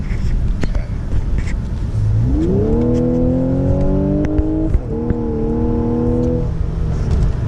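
A supercharged V6 car engine pulls hard under acceleration, a rising harmonic drone that climbs, dips briefly at a shift, and climbs again, heard from inside the cabin over road noise.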